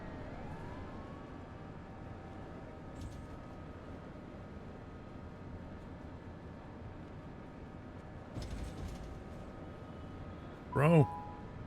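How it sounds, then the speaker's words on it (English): Ambulance siren in traffic, distant and low for most of the stretch with a steady hum of vehicles, then a brief louder wail near the end as it sweeps past. "That van is stuck behind the ambulance."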